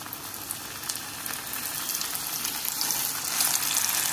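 Scorpionfish pieces fry in hot oil, a continuous hissing sizzle that builds slightly louder toward the end, with no voices.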